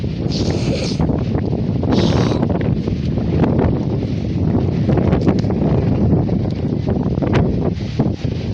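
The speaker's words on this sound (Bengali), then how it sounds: "প্রচণ্ড হাওয়া।" Strong wind near Puri buffets the microphone in a continuous loud roar with gusty rumbling throughout, and no voices are heard.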